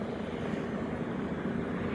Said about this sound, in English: Over the rotors of the helicopter.